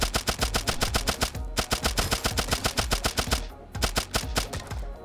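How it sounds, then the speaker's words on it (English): Rapid automatic gunfire in the video game Turnip Boy Robs a Bank, a fast steady rattle of evenly spaced shots in two long bursts with a brief pause between, loud and close. "Now I'm just shooting everything in case I get extra cash."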